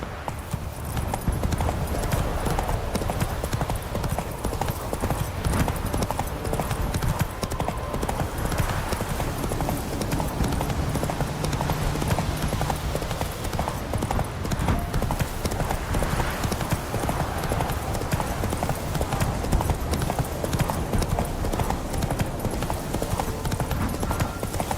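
Roach, the horse in The Witcher 3, galloping, with dense rapid hoofbeats that run on without a break for about twenty-five seconds. Game ambience sits faintly underneath and no one speaks.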